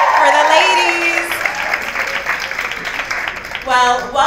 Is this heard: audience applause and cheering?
yes